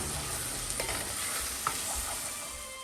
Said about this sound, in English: I'm adding 1 piece egg and gently saute with mushroom